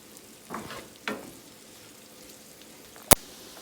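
Shakshuka peppers and chili flakes fry in a pan with a soft, steady sizzle, broken by a few stirring scrapes and one sharp clack near the end; no one speaks.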